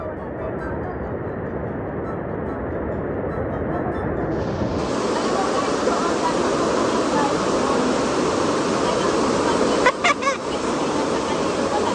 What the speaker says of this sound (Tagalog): Di marinig, malakas yung agos